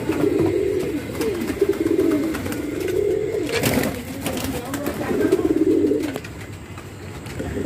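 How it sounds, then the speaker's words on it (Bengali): Native domestic pigeons coo continuously in a breeding loft, a dense overlapping chorus of low throaty calls at close range, with occasional rustling and faint talk in the background. "দেখেন আমার খামারটায় দেশি কবুতর বেশি রয়েছে"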